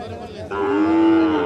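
Cattle at a busy livestock market give a loud, sustained moo lasting about a second over a steady background murmur of crowd noise.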